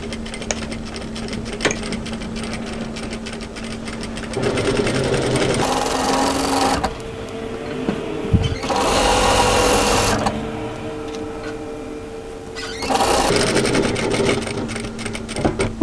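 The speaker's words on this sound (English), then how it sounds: "I'm going to sew it as an edge stitch" A sewing machine runs an edge stitch along a cross-back apron, its steady mechanical whir rising and falling in several long bursts with short pauses between passes.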